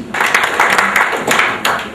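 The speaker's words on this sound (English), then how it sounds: "Round of applause, please." A short burst of crowd applause at a gathering, scattered hand clapping swelling in a few waves over a couple of seconds, fairly close and lively.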